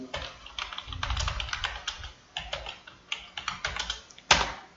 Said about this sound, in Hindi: यदि हम किसी सेल के अंदर कोई डेटा टाइप करते हैं